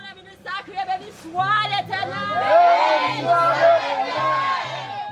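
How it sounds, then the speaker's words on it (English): A church congregation calling out, clapping and praising together: loud overlapping voices, whoops and shouts rising into a dense crowd roar, with musical tones underneath. "The entire congregation is calling out, clapping, laughing, crying, giving praise."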